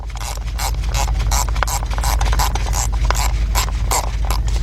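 Ratchet clicking rapidly and steadily as a spark plug is tightened on a Chevy Traverse engine, close up over a low background hum.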